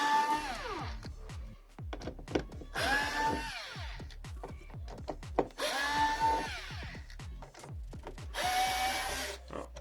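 Screws being driven out during a DURAL disassembly, heard as repeated whirring bursts of a powered driver rising in pitch, separated by rapid ratcheting clicks, close and fairly loud with no talking.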